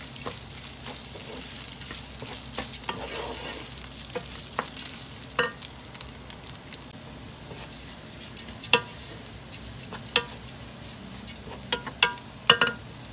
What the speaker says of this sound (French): Et je laisse revenir le riz 4 à 5 minutes